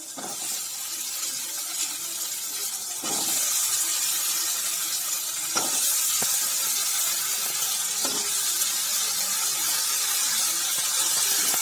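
Brinjal pieces sautéing with onion and tomato in a hot pan, a continuous sizzle and hiss with a few clatters as the vegetables are added and stirred.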